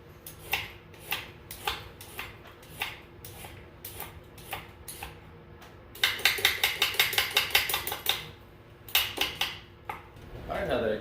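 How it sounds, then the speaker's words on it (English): Carrots being peeled in a kitchen for a lasagna sauce, a series of sharp scraping strokes in a steady rhythm that speed up into a rapid run midway, close and clear. "we're gonna peel our carrots first"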